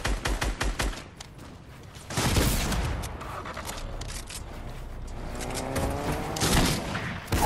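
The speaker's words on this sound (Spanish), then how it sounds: "Ya me empezaron a disparar." Fortnite gunfire crackles through most of the stretch in repeated volleys, loud and close at times, with broader booming bursts near the middle and the end.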